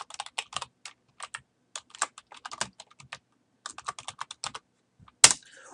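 Typing on a computer keyboard to enter names into a spreadsheet: close, crisp keystrokes in irregular bursts with short pauses, ending with one louder key strike.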